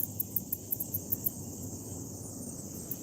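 Crickets chirp outdoors at a fishing spot in a quick, regular series of bright, high pulses, then pause briefly and resume, moderately near, with no talking.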